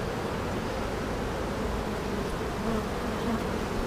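Honeybees buzz steadily around a heavy hive frame during a June hive inspection with drones on the frame, a dense close hum filling the whole clip with no talking.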